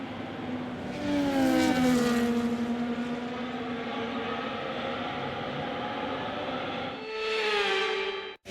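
F1 race cars in the F1 25 video game drive the formation lap in dry conditions, their engines droning and rising and falling in pitch. A second car sweeps close by near the end.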